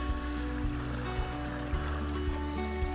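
A small stream runs for a short stretch in the dry desert mountains of New Mexico's Manzano wilderness, giving a steady, even rush of water with no voices over it.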